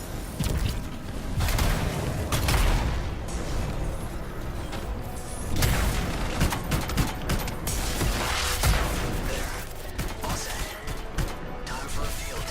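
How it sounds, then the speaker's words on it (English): Trapped canisters blowing up in the Anthem video game, a run of heavy crashing blasts and rumbling impacts across the scene, loud and dense with scattered smaller bangs, and voices talking underneath. "It'll be a contained explosion."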